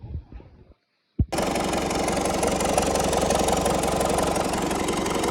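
A New Holland TD95 tractor engine with a worn, oil-burning turbo shaft: brief low sounds and a moment of quiet, a thump, then a close, loud, steady diesel idle running to the end.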